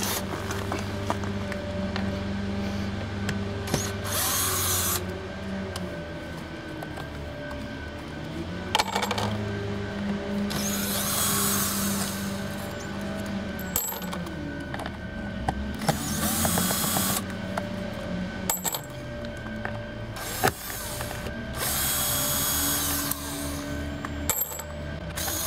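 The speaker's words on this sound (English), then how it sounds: "I'm gonna remove the remaining screws" Screws being backed out of a Beachcomber B15, probably with a power drill, giving repeated whirring bursts of a few seconds each, separated by short pauses, over a steady low hum, with no talking.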